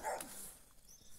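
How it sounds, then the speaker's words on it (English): Dogs bark in a short burst at the very start, fairly close and loud, then trail off quickly into a quiet background with faint noise. "Why are they barking, huh?"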